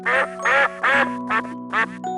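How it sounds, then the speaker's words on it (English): A duck quacks five times in close, loud, evenly spaced nasal calls with short pauses between them and no other sounds. "duck,"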